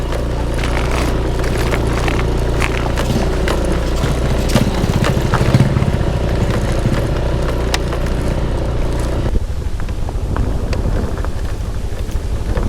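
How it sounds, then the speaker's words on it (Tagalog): A scooter engine droning steadily as it rides off-road over a rough track toward a campsite near a river, with wind buffeting the microphone throughout and a slight drop in level near the end. "Pinang off-road ang scooter."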